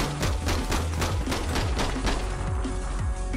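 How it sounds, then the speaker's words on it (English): Rapid, dense volleys of gunfire in the online shooter game APB, sharp repeated shots cracking in quick succession for the whole stretch, loud and close with no speech over them. "He doesn't have to hit me, he just is randomly shooting me."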